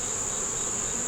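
Honey bees swarming over a hive frame holding honey, brood and queen cells, giving a steady close buzzing hum with a strong high whine and no pause, no voices over it.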